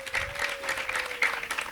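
A short burst of applause from an audience at a school event, with scattered claps over a faint steady tone and a murmur of voices.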